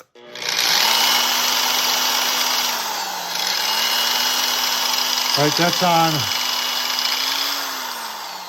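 A Harbor Freight Bauer surface conditioning tool runs loud and steady for several seconds, its motor whine dipping slightly at one point, with a brief spoken remark over it partway through.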